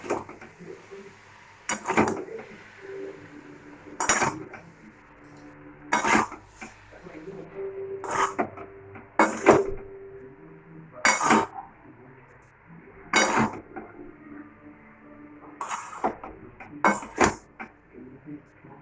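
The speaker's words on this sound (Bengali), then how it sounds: "এবার দিয়ে দেবো ম্যাগিগুলো। ম্যাগিটাকে আমরা ভালো করে মিশিয়ে নেবো।" Maggi noodles being mixed in a pan: spoon or ladle clanks and scrapes against the pan in repeated bursts every couple of seconds, fairly close and moderately loud.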